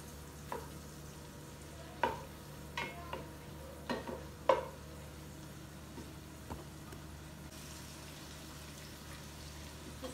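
Onions and garlic fry in fat in a pot for a meat kabsa, a quiet steady sizzle broken by scattered sharp scrapes and knocks as a spoon stirs.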